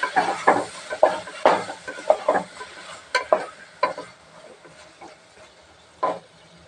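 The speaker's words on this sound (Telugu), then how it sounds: "వేసేసుకొని మంచిగా కలిపేసుకోవాలి" Spices are stirred and mixed in a pan with a run of distinct scraping, knocking strokes, irregular in rhythm and close, with quieter sizzling in the pauses between.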